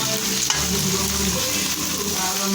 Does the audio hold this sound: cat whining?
no